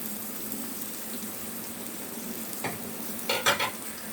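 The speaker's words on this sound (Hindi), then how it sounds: "टमाटर डाल रही हूँ," Tomatoes and green chilies sizzle and fry in a pan for a masala okra and onion dish, with a steady hiss and a few brief stirring scrapes near the end, no talking.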